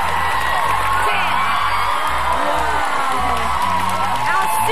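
A studio audience at a Dancing With The Stars NZ final cheers, whoops and applauds loudly and without a break after perfect judges' scores, with a voice talking over the crowd noise.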